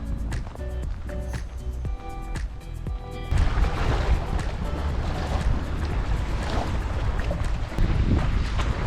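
Strong gale wind roaring across a Wimmera lake beside a boat ramp, with whitecaps on the water; after a few seconds of tonal sounds the wind buffets the microphone in a loud, continuous, broadband rush.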